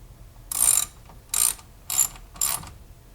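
A ratchet tightens a 10 mm bolt into a plastic part on a Mazda MX-5 Miata ND, heard as four loud, close bursts of pawl clicking separated by short pauses.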